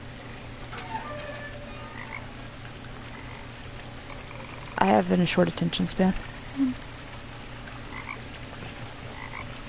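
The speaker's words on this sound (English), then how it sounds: "I hear froggies." A short burst of rapid frog croaks in the video game What Remains of Edith Finch rises briefly over a steady background hum, with a person talking quietly beneath.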